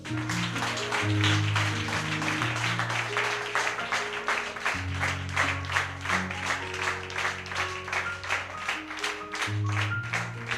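A church congregation claps along in a steady rhythm during worship, loud and sustained over accompanying music.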